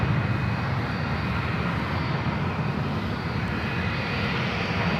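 Southwest jet taking off from runway 1 left at San Francisco airport: a steady, loud engine roar that holds broad and constant throughout, with no voices.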